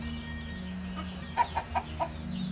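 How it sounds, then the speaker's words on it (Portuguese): Hens in a hen house give a short run of four soft clucks at mid distance over a steady low hum and background noise. "Aqui de cima, ó, tem um galinheiro."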